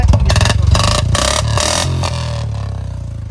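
A Royal Enfield Bullet motorcycle fitted with an aftermarket exhaust runs close by, its loud, rhythmic thumping idle pulsing steadily and easing slightly in level toward the end, with no talk over it.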